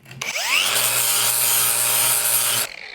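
A grinding disc dresses the face of a metalworking hammer head, whirring up to speed and then grinding loudly and steadily for over two seconds before cutting off abruptly.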